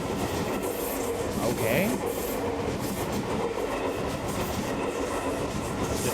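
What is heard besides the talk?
train sliding into platform in video game Ghostpia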